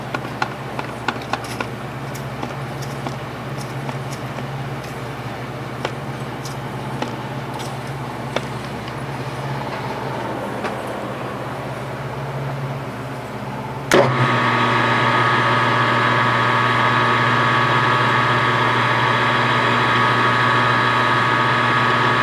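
A lathe spins up steadily on a 5-cylinder radial engine crankshaft, first a lower motor hum with light clicks and handling sounds, then a louder, even machining drone with a tonal whine from about midway on, near and continuous with no talk.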